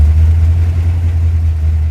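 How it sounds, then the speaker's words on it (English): A car engine fitted with an Edelbrock 1405 carburetor idles loud and close with the choke fully open, a deep steady throb with a slight surge, heard alone. "Got a little bit of idle surge, but it's still idling with the choke fully open."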